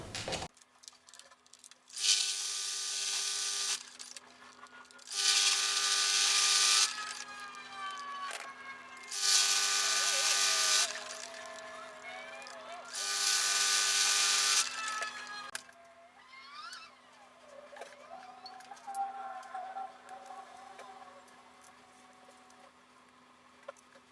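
Sewing machine stitching buttonholes on a blouse, four separate loud bursts of rapid mechanical whirring a few seconds each, split by quieter pauses with a faint electric hum and small handling noises.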